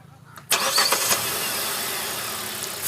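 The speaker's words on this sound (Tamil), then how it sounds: "நம்ம இப்போ இன்ஜினை கிராங்க் பண்ணி பார்ப்போம்." A 2021 Hyundai Venue's 1.2-litre petrol engine cranks briefly and catches, then settles into a steady, fairly loud idle.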